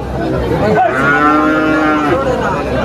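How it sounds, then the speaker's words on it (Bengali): A calf, an Australian heifer calf, lets out a long, loud moo up close, with faint crowd murmur of a busy cattle market in the background. "এই যে অস্ট্রেলিয়ান বকনা বাছুর আছে এখানে অনেকগুলা"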